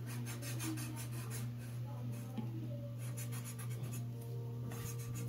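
A small pencil drawing on paper, a steady scratchy rubbing that runs through the whole stretch at close range over a constant low hum, with a faint voice in the background.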